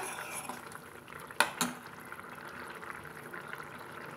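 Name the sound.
sundakkai tamarind curry boiling in a pot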